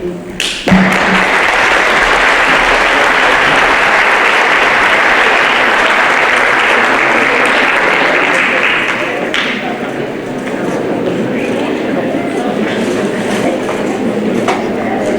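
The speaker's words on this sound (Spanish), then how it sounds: "Ese aplauso para el distinguido maestro Marcos" An audience applauds a lecturer at an anthropology talk, dense sustained clapping that fills the room for about fifteen seconds and eases slightly toward the end.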